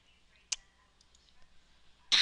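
A computer mouse gives a couple of sharp clicks, one brief click early and a louder burst near the end, separated by faint quiet.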